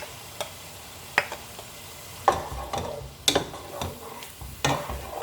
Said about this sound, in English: Keep stirring maybe for 2 minutes